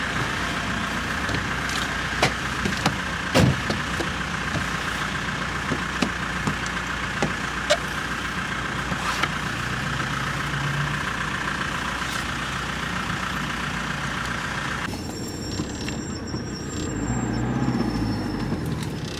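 A camper van's engine drones steadily while driving in winter, a constant close road rumble with a few knocks and rattles, shifting tone near the end.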